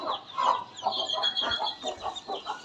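A hen clucks repeatedly in short, rhythmic bursts, fairly near, with faint farmyard noise around it and no talking.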